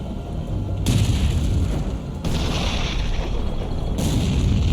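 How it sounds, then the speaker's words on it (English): Heavy gunfire erupts in loud bursts of booming blasts and crackling, with sustained rumble between volleys. "The sound of gunfire alerts a platoon of American M18 tank destroyers."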